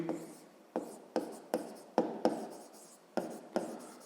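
A maths proportion is written out by hand, with a series of about eight short, scratchy pen strokes tapping and dragging across paper, close and quiet.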